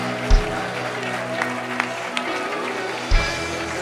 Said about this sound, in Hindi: पीछे खड़े हुए लोग ताली बजा रहे